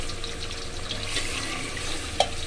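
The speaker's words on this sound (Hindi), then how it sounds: "2 गिलास हम इसमें पानी ऐड करेंगे" Water poured from a glass into a cooking pot while making beef yakhni pulao, a steady close splashing pour that runs throughout, with a brief sharper splash near the end.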